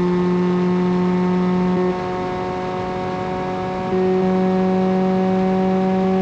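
A car engine drones loudly with a steady, buzzing tone, dipping briefly in pitch and volume before surging back up in a sustained rev.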